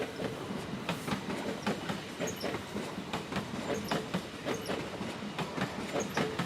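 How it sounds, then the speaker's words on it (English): An LNER class 801 train rolls through Doncaster station, its wheels beating a steady clickety-clack rhythm over rail joints with faint squeals, heard fairly close and without speech. "There's the Zoomer LNER 801223."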